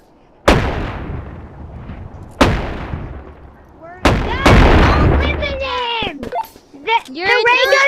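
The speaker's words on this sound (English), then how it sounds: "The ray guns will hurt you if you shoot!" Ray gun shots in the VR game Animal Company: three loud, sharp blasts with ringing decay, about two seconds apart, followed by a denser burst of firing as children's voices shout over the noise.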